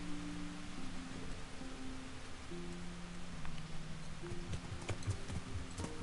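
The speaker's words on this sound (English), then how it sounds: "you can see the rain on your gauntlets" Rain falls steadily in the medieval game Kingdom Come Deliverance, a constant soft wash of drops. Low tonal game sounds and occasional sharper taps and clatters sit beneath it.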